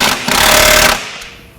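A short, loud burst of an impact or ratchet tool tightening suspension bolts on a Volkswagen Mk7 GTI during an APR sway bar install, a rapid buzzing rattle about a second long that then cuts off and fades.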